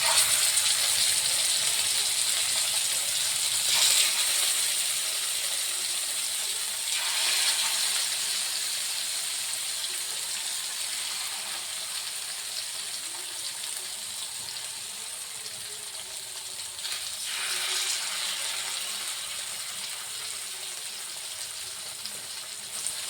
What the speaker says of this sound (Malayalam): നല്ല ഇരുമ്പിൻ്റെ ചീനച്ചട്ടിയിൽ കുറച്ച് വേപ്പലൊക്കെ ഇട്ട് അങ്ങോട്ട് വറുത്തെടുക്ക